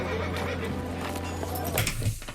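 A horse neighs in a fantasy TV series scene, a loud whinny over a steady low hum and background sound across the whole short clip.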